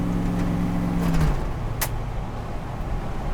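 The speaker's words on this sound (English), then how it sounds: "This is the first 500 feet this truck's ever driven with a new heart" An International Scout truck with a freshly swapped LS engine driving along, a steady engine drone inside the cab with a falling pitch as it shifts, and a brief rattle partway through.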